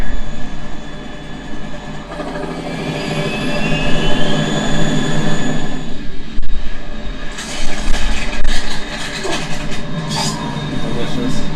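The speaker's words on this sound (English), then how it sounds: "We're in trouble. It's the Harrier." Harrier jet engine roaring in Metal Gear Solid 2, a loud continuous whine and rumble that surges and thickens with hissing bursts toward the end, over game music and effects.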